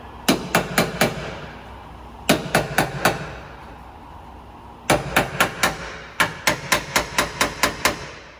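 Steel hammer striking a Honda Pilot body panel just off the dolly, sharp metallic blows in quick bursts of four to six, pausing between groups, close and loud with no talk.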